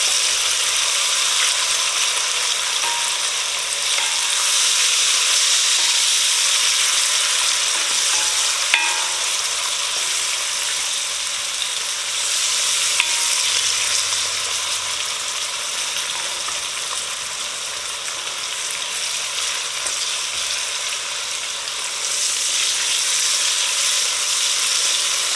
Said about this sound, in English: we're just going to lightly fry that till the onions are a little bit translucent